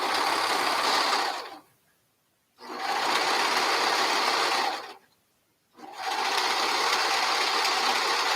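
A sewing machine stitches headband fabric in three steady, close bursts of whirring, separated by two brief pauses of near silence.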